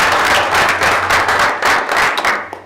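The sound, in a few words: audience applause at board meeting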